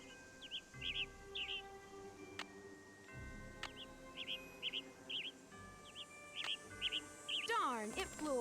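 A yellow bird in a Nancy Drew adventure game chirps in quick repeated tweets, recurring in small clusters over sustained chime-like tones, with a brief rising trill near the end and no talking.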